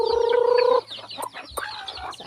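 A loud, drawn-out chicken call opens, followed by scattered short clucks from several birds close by.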